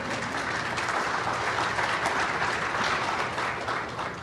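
An audience at a self-advocacy panel applauds in a thick, even burst of many hands clapping, steady and fairly loud throughout before easing slightly at the close.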